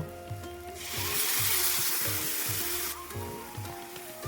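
Water poured into spices frying in a pan for a soya chunk and potato curry sets off a loud, steady hiss that swells for about two seconds and then settles, with a low rhythmic tapping running underneath.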